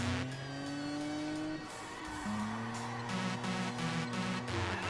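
In-game car engine from the racing video game Juiced 2, a steady mid-pitched drone with gear-shift pitch steps and a brief dip partway through, continuous and moderately loud with no talking.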